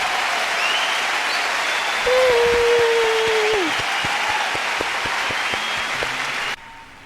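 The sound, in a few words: crowd applause added at end of song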